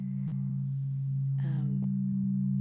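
An Acutonics tuning fork sounding its earth tone, a steady low hum with faint overtones that holds unbroken for almost three seconds, near and moderately loud, with a few soft taps and a brief murmur partway through.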